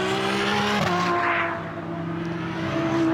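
Porsche race car in a GT Cup race, engine note rising and falling as it passes, with gear changes marked by shifting pitch and a brief swell of noise midway, heard from trackside at moderate distance.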